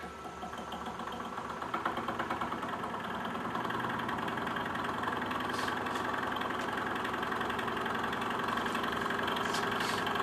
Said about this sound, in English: So I'm going to start driving this as a generator from our motor.